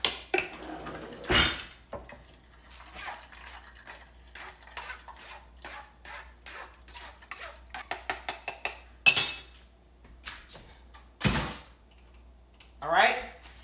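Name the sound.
spoon scraping watermelon to juice it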